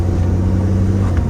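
Barn-find Jaguar XF engine running steadily with a low droning idle and a slight rise in revs near the end, loud and close with no voices.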